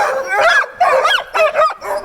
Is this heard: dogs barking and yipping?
yes